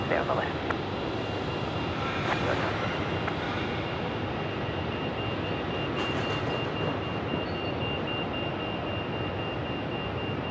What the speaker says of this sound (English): Well, that's an annoying beeping sound